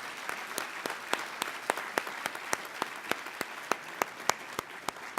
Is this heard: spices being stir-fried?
no